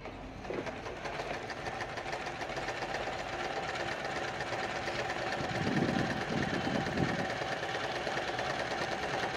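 Domestic sewing machine running and stitching fabric, a low, steady mechanical whir with a faint rhythmic knock, quiet and continuous throughout.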